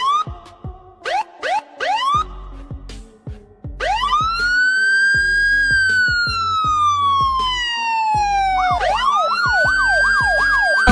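Girls mimic a police jeep siren with their mouths, voicing short rising whoops in quick bursts, then long wailing glides that sweep up and slowly down, ending in rapid warbling yelps, loud and close with no other talk.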